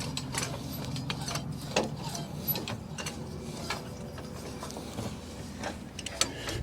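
A jack lifts a 1960 Willys Jeep by its bumper, making close, repetitive ratcheting clicks and metallic creaks in a steady rhythm, with small knocks between strokes.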